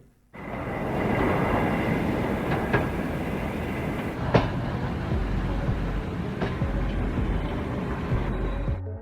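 A freight train rumbles steadily along the rails with a continuous heavy roar and a few sharp clanks, loud and close, no voices.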